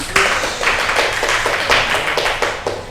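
Students in a classroom clap for a classmate after she answers a maths question, a short burst of brisk, fairly close hand claps with uneven rhythm.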